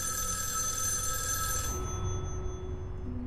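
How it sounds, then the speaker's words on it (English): A telephone rings in the video game Erica, a steady bright tone that cuts off partway through and then gives way to a low ambient hum, with no talking. "Answer the phone."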